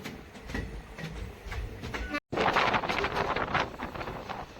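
An Intercity Express train pulls away from Karunagappally station, a continuous rolling rumble with rattling wheels heard from on board, steady and moderately loud, with a brief dropout midway.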